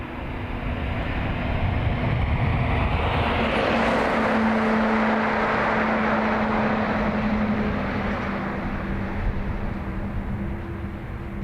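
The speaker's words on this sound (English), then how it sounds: "Eurowings heading to Dusseldorf." A Eurowings aircraft bound for Dusseldorf at Dublin Airport gives a loud, sustained engine rumble that swells to a peak midway and slowly eases off, with a steady tonal hum beneath and no talk.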